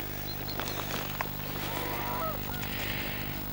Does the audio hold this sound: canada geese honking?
yes